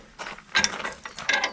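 A nut is spun quickly up a bolt with a ratchet while driving lights are fitted to a Toyota Hilux, giving two or three short bursts of close, clicking ratchet sound.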